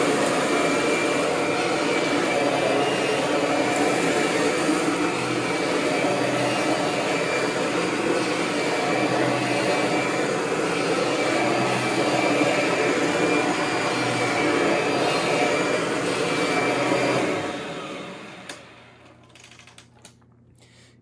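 Kirby upright vacuum cleaner running steadily at close range with a loud, even whooshing roar and motor whine, then cutting off near the end and winding down into quiet.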